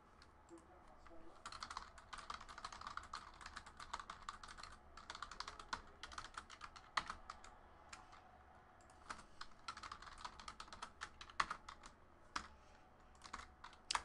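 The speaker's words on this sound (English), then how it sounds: "let me just type the updated schedule right here" Rapid typing on a computer keyboard, quick irregular key clicks running steadily throughout at moderate closeness, with no voices over it.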